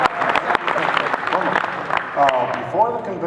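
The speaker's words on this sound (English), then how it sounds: "Yes, you can clap." Convention opening ceremony crowd breaking into applause, a dense wash of many hands clapping from a large audience, with a voice speaking over it through much of the stretch.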